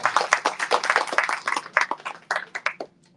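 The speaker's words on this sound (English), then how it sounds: "give them a round of applause for what they're doing" An audience breaks into a round of hand clapping at an evening event, with dense, close claps fading out after a few seconds.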